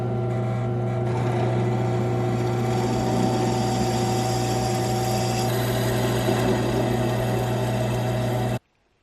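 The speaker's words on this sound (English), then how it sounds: "And back to the drill to cut out those 2 holes." A drill runs steadily as it cuts holes in a metal clamp, a continuous droning whine at close range that cuts off abruptly near the end.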